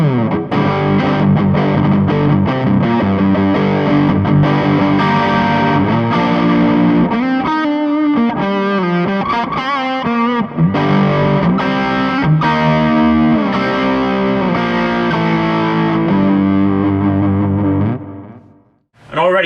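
Overdriven electric guitar through a B.K. Butler Tube Driver overdrive pedal with a bias knob, playing loud, continuous chugging rhythm chords with a warm, fat distorted tone that cuts off abruptly at the end.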